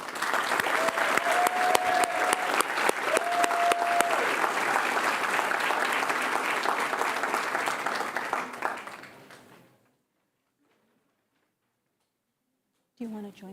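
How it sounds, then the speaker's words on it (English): Sustained applause from a board meeting audience honoring an award-winning middle school student, loud and steady for about nine seconds before fading to silence, with a brief voice at the very end. "Let's congratulate her with a round of applause"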